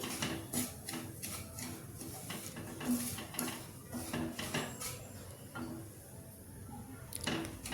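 Semolina (rava) being roasted and stirred in a pan for ravva laddu, with soft repeated scraping and metallic clinks of a spoon against the pan, fairly quiet and irregular, with no speech.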